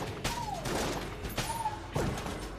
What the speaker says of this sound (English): What gun am I firing? Haha, it's the same gun, 2 shotguns